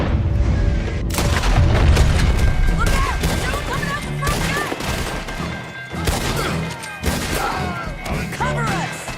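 Loud gunshots and heavy booming impacts in a Red Dead Redemption 2 firefight, including a headshot, rolling on continuously with crashes and shouted voices mixed through the chaos.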